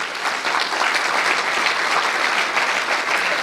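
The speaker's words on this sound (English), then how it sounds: "let's give a round of applause to Catherine" A crowd at an interview event breaks into steady, even applause for a guest, a dense wash of clapping with no voices.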